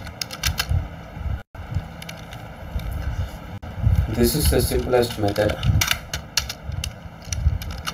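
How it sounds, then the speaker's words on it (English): Fingers tap quickly on a computer keyboard, a rapid run of light clicks mixed with a low background hum while someone talks over them. "Just we are typing"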